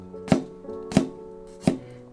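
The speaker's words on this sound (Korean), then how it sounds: "마늘은 편을 써서 넣어줄 겁니다." Several evenly spaced knife strokes land sharply on a cutting board as garlic is sliced, each a crisp close chop with short pauses between, no talking.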